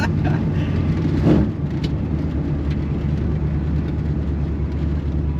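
A rattly 1939 Chevy coupe custom in need of shocks driving along: a steady, loud low engine drone and road rumble heard from inside the cabin, with a brief bump early on.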